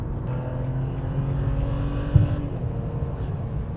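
A BMW with an M54 engine drones and pulls under acceleration in third gear on a highway, heard from inside the cabin, a steady low rumble with a brief thump partway through.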